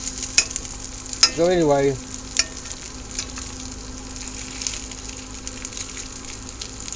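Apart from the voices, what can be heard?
rice frying in cast iron skillet on Coleman stove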